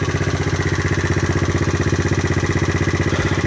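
A GY6 scooter engine, freshly carburetor-tuned, holds a steady idle of about 2,000 RPM, a close, loud, evenly pulsing putter that keeps the same rhythm throughout with no voices over it.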